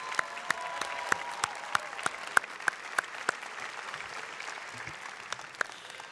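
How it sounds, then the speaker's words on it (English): Audience applause at a 2026 high school graduation ceremony, a steady moderate clapping with sharp individual claps standing out, fairly distant and lasting the whole stretch. "let's have one more round of applause for our graduating class of"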